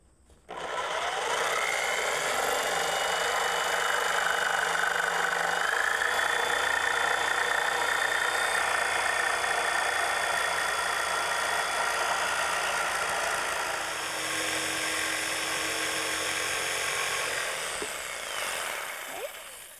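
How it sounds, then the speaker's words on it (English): Small power saw cutting wood for a DIY vintage bookshelf, a close steady whining buzz that starts abruptly, runs continuously for nearly twenty seconds, then tapers off near the end. "This is the best little saw to have."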